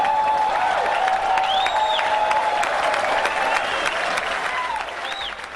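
Thunderous applause from a large crowd at Sony's PlayStation price announcement, loud sustained clapping and cheering with a few whistles riding over it.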